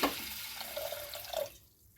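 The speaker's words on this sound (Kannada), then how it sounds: "ನೀರು ಹಾಕಿದ್ದೀನಿ." Water pours into a pressure cooker holding cowpea beans, a close, steady splashing stream. It runs for about a second and a half, then stops abruptly.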